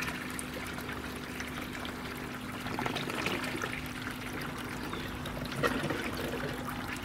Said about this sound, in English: So it's almost time for the siphon to break.